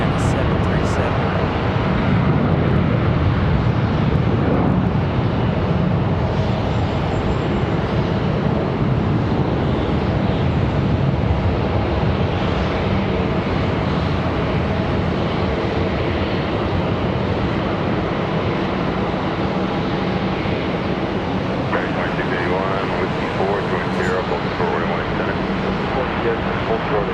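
An American Airlines Boeing 737 departs Charlotte airport, its engines giving a loud, continuous roar that holds steady at close range throughout.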